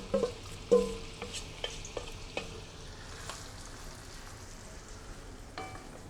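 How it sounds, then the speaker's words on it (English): Chopped onion and garlic saute in vegetable oil with a soft steady sizzle, and a few light utensil taps and stirring clicks sit close over it. "I'm going to take some onion, chopped onion and garlic, and we're just going to saute these"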